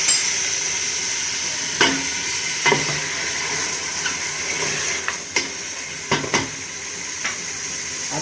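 Separated onion layers fry in a pan for chicken salan, sizzling in a steady, loud hiss close by, punctuated by several sharp spoon scrapes and taps as they are stirred.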